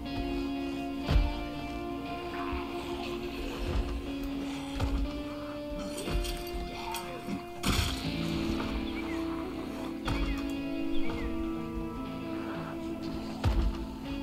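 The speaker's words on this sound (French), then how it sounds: "c'est le bruit des zombies qui tapent contre les murs qui perturbe" Zombies in the Project Zomboid video game bang against a wall: irregular dull thumps repeat every second or two over a steady droning game background, with no talk.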